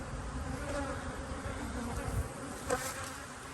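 Honey bees swarm around backyard beehives whose deep brood boxes hold VarroxSan strips, making a dense, continuous buzz that stays loud and close throughout with no voices.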